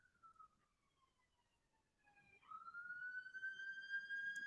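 An emergency vehicle siren wails outside at a distance, a faint falling tone that then rises and grows louder as it sweeps upward and holds.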